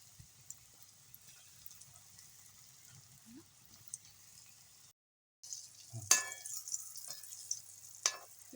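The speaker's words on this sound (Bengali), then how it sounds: "আমি এবারে কড়াইতে তেল ঢেলে দিয়েছি, তেল গরম হয়ে গেছে। আমি এগুলো দিয়ে ভেজে নেব।" Potatoes go into hot oil in a wok with a quiet low sizzle, followed after a short gap by louder clattering stirs and bursts of frying hiss.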